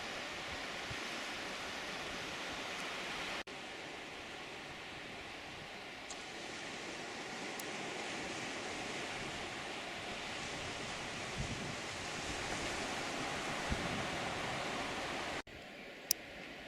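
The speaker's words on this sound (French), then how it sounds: "La marée commence à sérieusement monter." Waves of a rising tide wash steadily at the foot of chalk sea cliffs on the Normandy coast, a continuous distant roar of surf mixed with wind.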